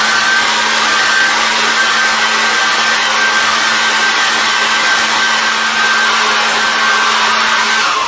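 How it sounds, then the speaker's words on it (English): Hairdryer blowing steadily on acrylic paint, a loud, close, constant whooshing roar with a faint whine, running unbroken throughout with no talking. "Excuse me, get a hairdryer."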